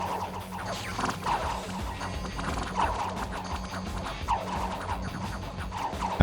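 Battle sounds from the strategy video game Dominions 6, with cavalry horses charging at the front: repeated crashing impacts and whacks, horse whinnies and hoof clatter over a busy, steady din, with a louder hit at the end.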